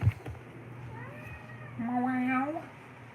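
A cat meows indoors during a livestream, a clear rising and falling meow in the second half, with a person's voice and faint room noise around it.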